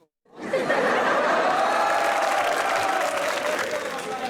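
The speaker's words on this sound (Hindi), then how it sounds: "ये जो आप हंस के तालियां बजा रही हैं आप ही से है।" Sustained applause mixed with laughter from a studio audience at a Pakistani comedy talk show, starting abruptly and holding loud and dense before easing slightly toward the end.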